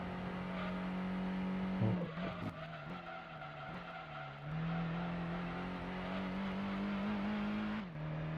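A big front-heavy race car in Gran Turismo holds a steady droning engine note, dipping and climbing through gear changes, with tyre squeal and skidding layered in, loud and continuous.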